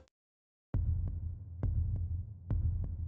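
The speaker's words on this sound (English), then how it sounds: "her heart pounding against her ribs" Heartbeat sound effect in a horror story: a low, thudding pulse that starts after a brief silence and repeats at a steady pace, each beat a soft double thump over a dark hum, with no voice.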